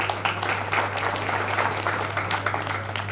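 Steady audience applause at a Hindi kavi sammelan poetry recital, a dense, even wash of many hands clapping throughout with a constant low hum beneath.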